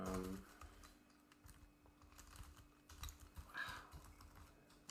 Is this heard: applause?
no